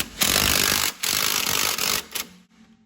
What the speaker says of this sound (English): you just use a 17 millimeter socket with your impact